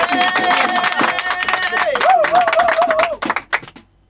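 A church congregation at a prayer service claps rapidly and cheers, dense crackling applause under a loud, sustained voice, breaking into scattered claps before dying away.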